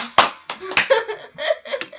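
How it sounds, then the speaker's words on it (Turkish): An applause sound effect: a short burst of several sharp, close hand claps in an uneven rhythm, with faint laughter mixed in. "Burada bir alkış yine gelsin."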